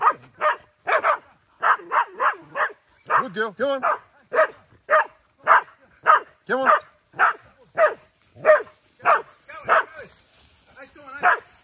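Hunting dogs bay and bark repeatedly during a pig hunt in central New South Wales, loud close barks in a steady rhythm with some yips, while a man encourages them in between.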